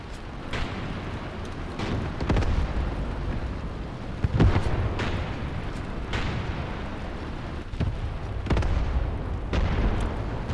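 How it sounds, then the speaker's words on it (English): Smoke rounds fired in Graviteam Tactics land as a series of heavy booms and thumps, one every second or two, over continuous low battlefield rumble. "They're shooting smoke rounds"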